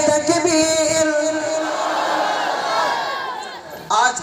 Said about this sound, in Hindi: तकबीर अल्लाहु अकबर